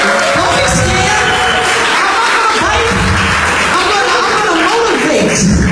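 An audience at an award acceptance for Red Carpet Host of the Year claps and cheers loudly and continuously, with whoops and shouts mixed in and a voice speaking over the noise.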